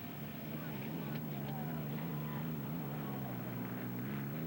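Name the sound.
engines of racing hydroplane boats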